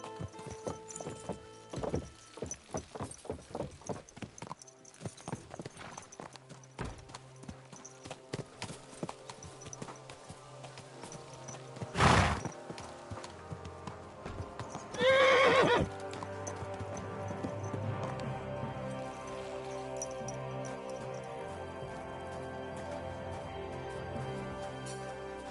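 A horse in Kingdom Come Deliverance 2 clip-clops along, then loudly neighs twice, its hooves thudding steadily in a close, clear game soundscape without talk.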